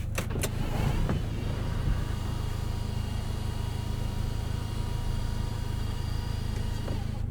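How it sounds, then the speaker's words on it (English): Sunroof on a 2025 Audi S3 sliding open inside the cabin, a steady electric motor hum running throughout after a few faint clicks at the start. "There's your sunroof operation"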